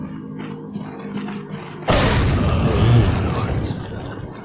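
A grenade goes off in Resident Evil 4, a sudden loud booming blast that cuts in after a quieter stretch and rumbles on for a couple of seconds amid other game noise.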